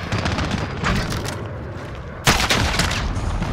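Video game gunfire bursts loud and close in a military shooter featuring the AN-94 rifle, with a rattling volley up front and a sharp, heavier burst near the end.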